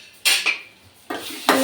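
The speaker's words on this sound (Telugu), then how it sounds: "ఒకసారి మూత తీసుద్దాం" A mixer grinder jar lid is pulled off in a home kitchen after grinding salt and ginger paste, giving three or four sharp clattering knocks of hard plastic and metal, close and fairly loud, with no talk.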